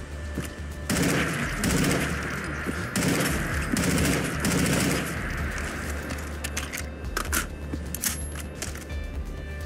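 A SIG MCX Virtus assault rifle fires in Fallout 4, loud rapid bursts of gunfire in a steady rhythm that ease off into scattered clinks and faint mechanical handling.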